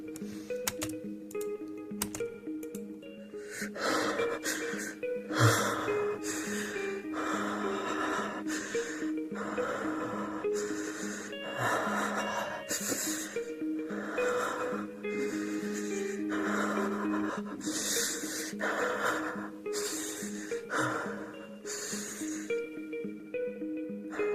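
Heavy, ragged breathing recorded close to a sensitive microphone for dubbing a stalker character, with rhythmic snorting inhales and wheezy exhales repeating steadily throughout, no words spoken.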